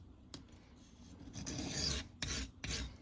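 Knife blade rasping back and forth across a coarse whetstone, a few short strokes then a longer run of loud grinding passes, close up with no talking.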